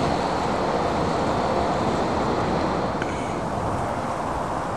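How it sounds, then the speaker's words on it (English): Steady roaring wind of about 20-30 mph buffets the microphone over open water with broadband rumble, holding strong throughout with slight surges, and no voices. "Well, we're having winds now,"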